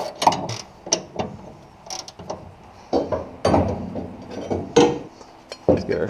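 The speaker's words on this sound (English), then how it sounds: "Unbolting the spring compressor now." A ratchet working loose the bolts of a spring compressor on a 1968 Cougar front end, with irregular clicking bursts and metallic clanks close by, no talking.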